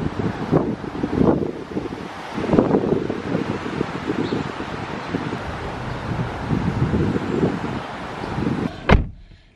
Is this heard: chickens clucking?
no